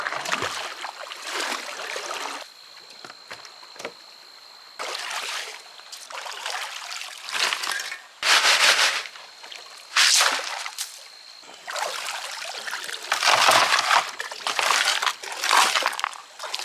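Water pours and sloshes into an empty bucket at an outdoor gold-mining site in Wisconsin, in several separate bursts of splashing and trickling with short quieter gaps between them, close and fairly loud with no talking.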